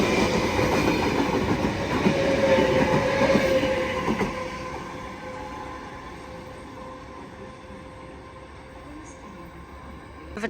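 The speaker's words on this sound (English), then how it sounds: "Newcastle service passing platform number 2" A Sydney Trains Newcastle service passes a station platform, loud rumble and wheel clatter up close, then fading away to a quiet hum.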